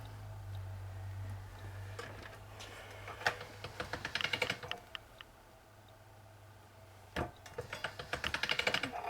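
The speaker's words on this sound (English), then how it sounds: "I'll pass it through my machine a few times here." Pardo polymer clay is passed through a conditioning machine several times, giving bursts of quick, dry clicking and rattling over a steady low hum, with a quieter gap midway before the clicking returns.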